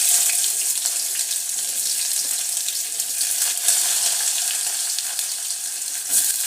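Onion hitting hot oil in a pan while cooking spicy masale bhat and veg biryani, producing a steady, loud, dense sizzle that runs throughout with no talking.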